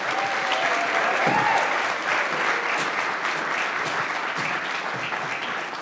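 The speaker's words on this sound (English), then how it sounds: "Give Johanna a big round of applause." Audience applause fills a community inclusion event, with dense, steady clapping from a sizable crowd. It stays loud and even for the whole stretch and fades slightly at the end.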